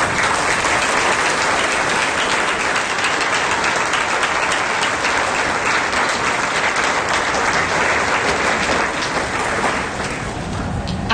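Loud, continuous applause from a large commencement crowd honours the teachers and staff of Bethlehem Academy, a dense unbroken wash of clapping that holds for over ten seconds.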